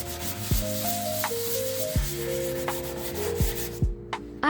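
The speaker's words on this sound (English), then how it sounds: "After, use 180 sandpaper to sand all surfaces." 180-grit sandpaper rubs across kitchen cabinet surfaces in steady, continuous strokes, heard close up.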